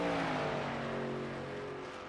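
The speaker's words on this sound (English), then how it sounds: "You can hear that truck coasting across there" A racing truck coasts across the track with its engine shut down or clutched, giving a steady fading mechanical drone with a faint whine, heard alone for about two seconds.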